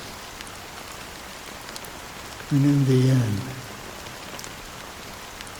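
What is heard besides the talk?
rain falling, from the video game Honkai Star Rail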